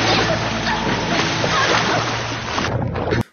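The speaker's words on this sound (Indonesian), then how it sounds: "perahu mereka terbalik dikarenakan ombak yang sangat besar" Rough sea water crashing and splashing loudly as a small boat overturns in huge waves, a dense roaring churn close by that cuts off abruptly near the end.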